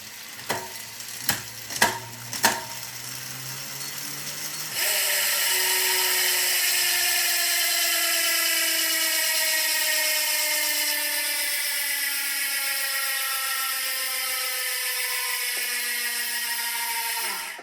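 A bicycle rear wheel spins on its freehub, a few quick clicking bursts giving way to a loud, steady, continuous buzzing ratchet that holds and slowly fades as the wheel coasts down.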